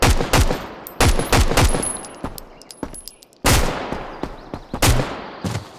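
Gunfire in a video game, sharp shots cracking out in uneven bursts with brief gaps, loud and close, a heavy volley returning near the end.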